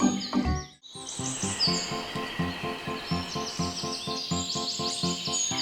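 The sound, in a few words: birds calling in a garden in Albay, Philippines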